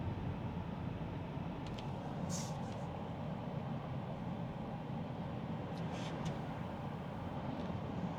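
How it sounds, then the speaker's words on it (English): Old diesel truck with sooty tailpipes rolling alongside a car on East Whitestone Boulevard, a steady low engine rumble and road noise heard from inside the cabin, with faint hissing bursts now and then. "The junkie truck's next to us again."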